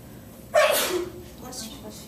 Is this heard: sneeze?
yes